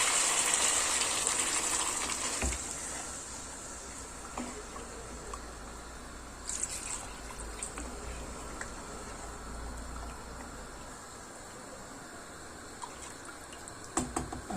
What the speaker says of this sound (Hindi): अब हम इसमें जो यखनी थी हमने जो सेपरेट निकाली थी वो ऐड कर देंगे इसमें।